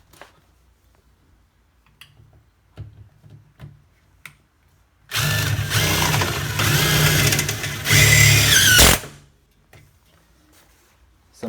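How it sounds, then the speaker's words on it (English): A power drill drives T20 screws into a closet wall stud while shelves go up, a loud close whirring burst of about four seconds with a brief pause and a strained final push, set between quiet handling noises. "So I'm drilling T20 screws onto this."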